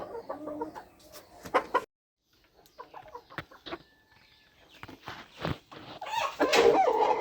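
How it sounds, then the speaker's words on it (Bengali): Chickens clucking in short, scattered bursts, moderately close, as a hen lays an egg, with brief pauses and a louder squawk near the end. "এখানে একটা মুরগি ডিম পারতেছে"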